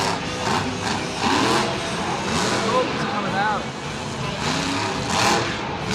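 Iron Man monster truck's engine roars at a Monster Jam stadium show, a loud sustained revving with surging pitch swells, heard amid crowd noise and announcer commentary.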